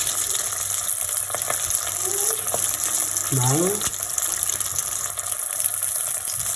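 Jackfruit autumn rolls fry in hot oil with a steady, dense sizzle, and a few brief kitchen clinks and a short voice sound come through over the frying.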